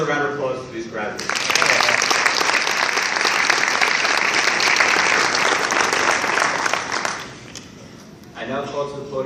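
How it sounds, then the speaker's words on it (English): A graduation ceremony audience breaks into a loud, sustained round of applause for the graduates, rising suddenly and holding for several seconds before fading, with a voice speaking briefly before and after. "May we please have another round of applause for these graduates."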